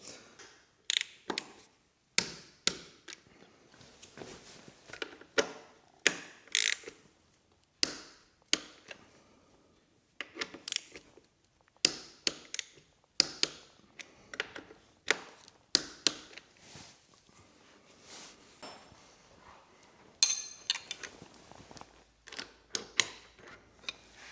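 Caliper bolts being loosened and removed on a 2023 Honda CB500X motorcycle, a series of sharp metallic ratchet clicks and taps in irregular bursts, close and fairly loud, with brief quiet gaps between.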